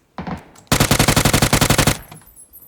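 A loud, close burst of rapid automatic gunfire from a shooter video game rattles off about twenty evenly spaced shots as the last bullets are emptied, then stops.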